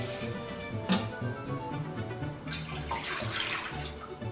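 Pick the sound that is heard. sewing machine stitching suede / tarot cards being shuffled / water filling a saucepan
water filling a saucepan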